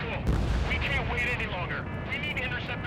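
Missile launches and explosions in the combat flight game Ace Combat 7, a dense continuous roar of blasts and rumbling fire under radio chatter and game voices.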